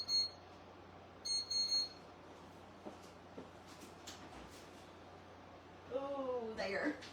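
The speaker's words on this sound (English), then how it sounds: "my buzzer's going off, so let me check my pies" A kitchen timer buzzer goes off while pies bake, giving two short bursts of high electronic beeping in quick succession over a quiet room, followed later by a brief voice.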